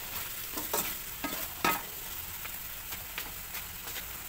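Adobo sa asin meat fries in its own rendered fat, a steady low sizzle broken by periodic scraping stirs and clinks of a utensil in the pan.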